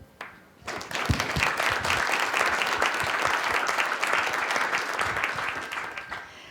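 An audience applauds a panel after a cybersecurity discussion, with steady clapping that swells quickly, holds for several seconds at moderate volume and then tapers off.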